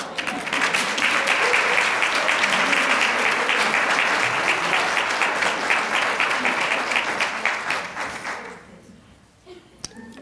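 Sustained applause from an audience at a Women's History Month employee recognition event, loud and steady for about eight seconds before fading to a near silence with a single sharp tap.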